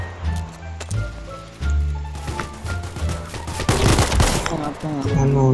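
Bursts of gunfire from the online shooter game Vice Online crackle in rapid fusillades, scattered shots building into a dense, loud volley near the end, with game effects mixed in.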